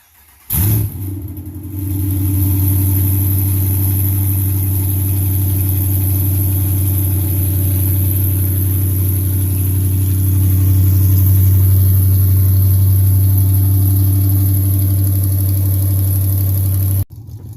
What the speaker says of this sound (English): First start, long tube headers and nothing else.